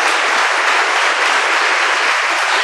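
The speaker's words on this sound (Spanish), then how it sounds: "Aplauda al Señor, por favor." Dense, loud applause from a church congregation, a continuous wash of many hands clapping with no pauses or voices.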